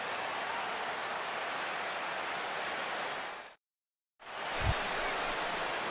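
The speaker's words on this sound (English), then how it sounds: "the rain continues to fall here" Steady broadband rain hiss in MLB The Show 16 baseball, continuous and fairly loud across the whole stretch apart from a brief silent gap near the end, with a small low thump just after it resumes.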